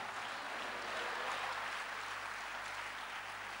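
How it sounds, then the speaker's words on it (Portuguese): Steady, faint applause from a church congregation at a service in Maputo fills the space as a continuous wash of clapping, with a low electrical hum beneath. "E aplaude"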